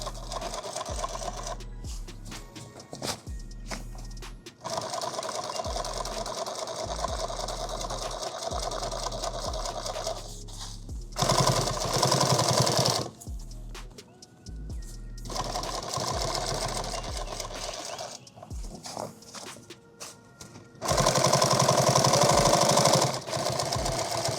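A sewing machine stitches a seam on a magazine bag in repeated loud mechanical bursts, each run a few seconds long, separated by short pauses.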